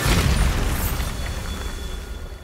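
A Bombarda blasting spell goes off in Hogwarts Legacy, a loud booming explosion with a heavy low rumble that decays over about two seconds, with no talk over it.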